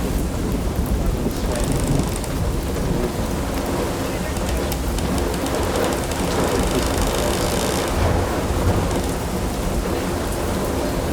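Heavy rain drums steadily at a Canadian tree planting camp while thunder rumbles through, loud and continuous for the whole stretch with no voices.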